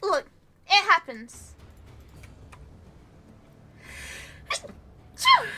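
A single sneeze bursts out near the mic during a casual gaming livestream, followed by quiet room tone and a few brief spoken remarks around it.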